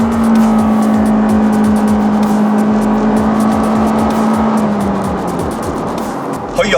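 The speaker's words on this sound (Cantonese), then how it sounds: "我試下加速俾大家睇。" A Lexus UX, 2.0-litre naturally aspirated hybrid, accelerates hard in Sport Plus mode, the engine drone holding a steady loud tone from inside the cabin, dropping slightly near the end.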